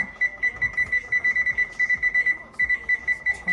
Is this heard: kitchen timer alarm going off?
yes